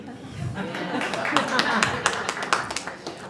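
Audience at a stand-up comedy show breaks into scattered clapping that builds into a brief patter of claps, with someone talking over it at close range.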